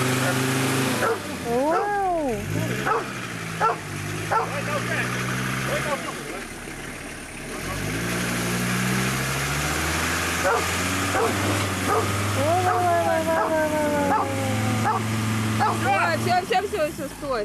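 A dog barks and yips several times over an idling engine, with people talking and calling nearby, at Vysokinskoye Lake.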